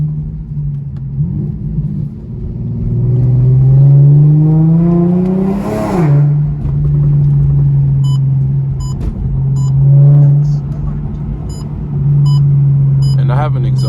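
A catless Infiniti G37 with an exhaust leak rumbles loudly at idle and revs up now and then, its rough, raspy drone steady and close throughout.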